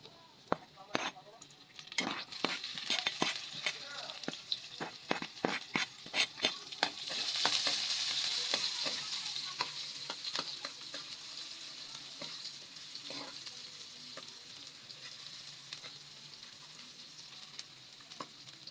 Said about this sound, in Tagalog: Pag nag-brown-brown na yung bawang, isunod na natin yung ating sibuyas.